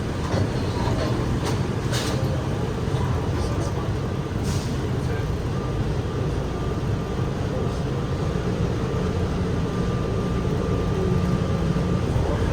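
Steady low rumble of an airport tram in motion, constant and enclosed, with faint background voices and a few brief higher clicks.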